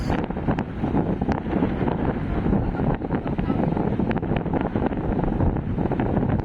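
Strong wind at a Palawan beach buffets the microphone in a loud, continuous rumble with gusty peaks and occasional clicks.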